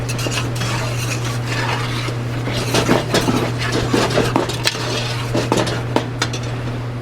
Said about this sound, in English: After our wine's reduced by half, we're going to add our herbs. We're going to stir these in.